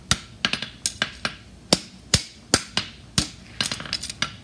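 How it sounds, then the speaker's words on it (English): Blacksmith hammering a fullered front horseshoe on an anvil, with sharp ringing metallic strikes at an uneven working rhythm, loud and close, some quick double taps between blows. "I'm letting the anvil take most of the beating."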